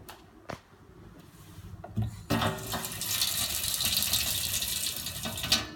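A twin-basin kitchen tap runs at weak pressure, starting with a couple of faint knocks and splashes and then settling into a steady, thin hiss of flowing water for the last few seconds.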